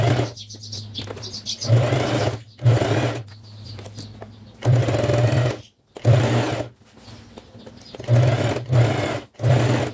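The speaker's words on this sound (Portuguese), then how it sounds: "Agora eu vou vir, vou costurar aqui e aqui, e já volto pra gente dar continuidade." A sewing machine stitches a Christmas-themed fabric cover for a gas cylinder, running in loud close bursts of a few seconds each, separated by brief pauses.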